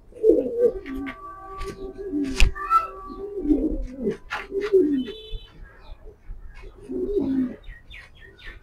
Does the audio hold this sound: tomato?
no